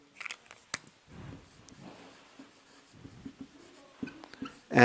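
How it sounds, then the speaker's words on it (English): A pen scratches across a writing surface in short, irregular strokes, quiet and close, with small pauses between words and a louder bump at the end. "let me write the name, fat, like lipids"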